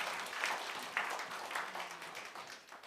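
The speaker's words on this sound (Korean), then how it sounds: "우리 한 번 더 박수로 격려하겠습니다." A church congregation applauds a choir after a Sunday worship performance: a steady, soft wash of many hands clapping together, distant and faint, with no voices over it.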